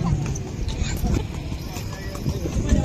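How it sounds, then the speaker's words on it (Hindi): A horse pulling a cart clops its hooves in a steady, fairly quick rhythm, mixed with road rumble and the cart rattling. Riders talk over the sound. "हम घोड़े पे बैठे हैं, घोड़ा गाड़ी में बैठे हो?"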